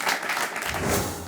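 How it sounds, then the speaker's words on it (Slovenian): A studio audience at a Slovenian weekly comedy show bursts into loud, dense applause, a brief continuous roar of many hands clapping together. "Dajmo en aplavz zame"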